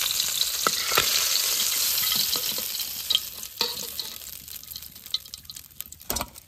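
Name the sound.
hilsa fish head frying lightly in oil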